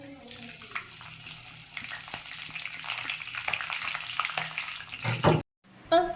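Garlic, chillies and curry leaves frying in hot oil, a steady close sizzle and crackle with stirring scrapes, ending in a short break and a brief louder burst of spitting.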